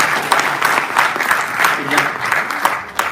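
Loud, dense applause from an audience at a memorial ceremony for Mongi Zidi, with many hands clapping close by and continuing without a break.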